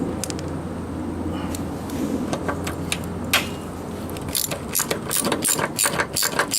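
Ratchet tightening small bolts on a John Deere 62D mower deck, giving bursts of rapid close clicking that grow denser and louder toward the end, with a faint mechanical hum underneath.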